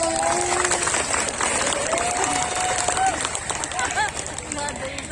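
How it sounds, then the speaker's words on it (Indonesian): Audience applause and crowd noise fill the space continuously at a live religious talk, with scattered clapping, some cheering and a voice singing over the top. "Tepuk tangan dulu dong buat"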